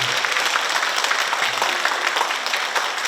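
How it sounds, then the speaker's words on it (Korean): Audience clapping at a healing talk concert with a Buddhist monk and a Catholic priest, a dense, steady round of applause filling the hall from start to finish. "다시 한번 강의를 해주신 하성명 이스트 선수님과 성리스님께 큰 박수"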